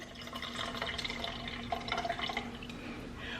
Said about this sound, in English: I'm going to put some of this juice in the can